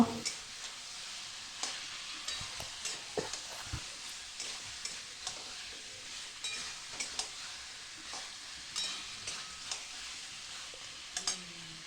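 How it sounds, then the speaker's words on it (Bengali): Jackfruit and potato stir-fried with spices in a pan, with a low steady sizzle broken by repeated scraping stirs at an irregular rhythm, close and fairly quiet throughout. "মশলার সাথে এঁচড় আর আলুটাকে খুব ভালো করে কষিয়ে নেব"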